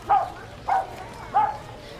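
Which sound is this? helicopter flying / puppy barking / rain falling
puppy barking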